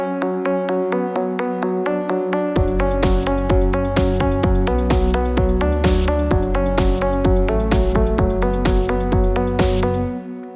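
An arpeggiated synth patch from the u-he Diva soft synth plays alone at first with quick, evenly spaced plucked notes. After a few seconds a full backing with deep bass and drums joins in, and the mix keeps going steady and loud for the rest.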